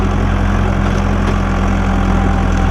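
A New Holland T7 tractor engine runs at a steady idle-like drone, loud and close, with a constant low hum and no talk.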